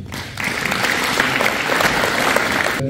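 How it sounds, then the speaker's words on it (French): A town hall audience breaks into applause for an orchestra conductor, a dense, loud roar of many hands that swells in after a brief pause and holds steady before cutting off. "Je vous demande de l'applaudir."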